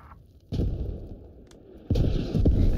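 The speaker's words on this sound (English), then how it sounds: "there's mortars" Mortar shells explode in the video game Squad, two heavy booming impacts with rumbling tails and a sharper pop between them, loud and close against a low background.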